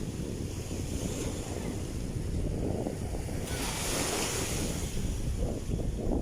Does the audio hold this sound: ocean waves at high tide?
yes